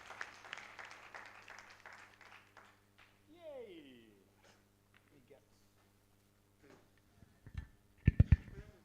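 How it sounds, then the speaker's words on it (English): Audience applause rings out at the 8th annual LEAP business conference, a burst of clapping that fades over the first few seconds, leaving quiet room sounds and a sharp clatter near the end. "I felt another huge round of applause."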